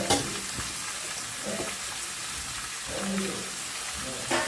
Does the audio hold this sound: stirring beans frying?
yes